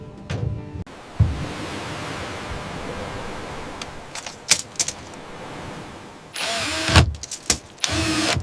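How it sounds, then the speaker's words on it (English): A power drill whirs in several short bursts near the end, driving into a wall section during home construction, after a stretch of quieter handling noise and clatter. "All right, drilling it in."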